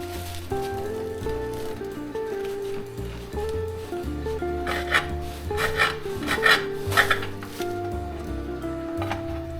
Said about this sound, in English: One slice of sourdough.